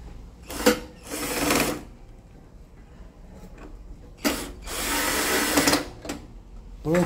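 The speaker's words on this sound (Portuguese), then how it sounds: "Vamos pôr aqui o parafuso para segurar o painel." Screw being driven to hold a microwave panel during a membrane replacement, two pairs of short electric screwdriver whirs, close and fairly quiet, with faint low hum between.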